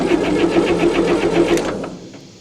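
A 1960 Massey Ferguson FE35 tractor's four-cylinder engine, left sitting in a paddock, cranks with a fast rhythmic churning that labours for about two seconds and then stops without catching.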